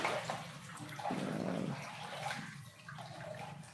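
Floodwater fills a house kitchen in Macabebe, Pampanga, heard as faint, quiet sloshing and trickling with a brief stronger swirl midway, low in level and close by.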